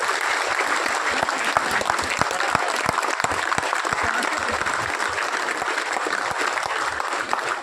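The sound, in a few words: audience applause honoring farmers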